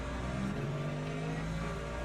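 LMP3 prototype race car engine in the Le Mans Ultimate sim racing game, a steady droning engine note with rising and wavering pitch, loud and continuous with no talking.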